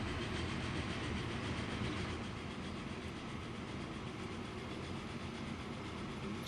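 A train rolls along the tracks in the Transport Fever rail game, giving a steady, even rumble with faint clickety-clack from the wagons, moderately quiet and continuous with no voices.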